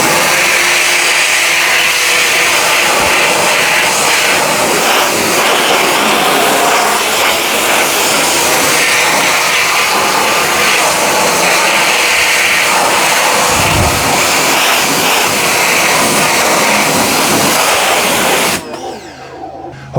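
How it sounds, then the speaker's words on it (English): An EGO HPW3200 battery pressure washer sprays on turbo mode with a loud, constant hissing roar that holds steady for about eighteen seconds, then cuts off abruptly, close up with no talking. "Okay, the pressure washer is very, very powerful."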